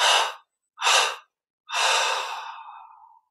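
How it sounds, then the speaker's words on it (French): Deep breaths drawn in through the nostrils and let out: two short, close airy breaths followed by a longer, fading exhale in a quiet setting, with no speech. "On inspire profondément par les narines. Trois expires."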